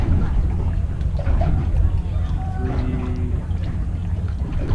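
Racing powerboats with twin 1875 hp turbo engines at the Boyne Thunder event, a steady loud engine roar mixed with wind buffeting on the microphone, no clear speech.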